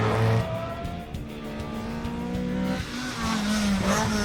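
Peugeot 206 rally car on a hill climb course in Barbados, engine revving hard and shifting as it races past nearby, with a brief tire squeal.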